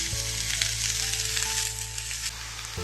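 Three finely chopped onions frying with curry leaves in a pan for kadai prawns, a steady loud sizzle that holds continuously throughout, with no voices.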